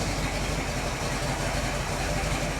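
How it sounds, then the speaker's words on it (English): A rebuilt Ford 390 FE V8 idles at a smooth hot tick over, a loud, close, constant rumble with an even low throb and no voices. "a nice tick over. Getting about 750 RPMs. Hot idle, we're sitting at 45."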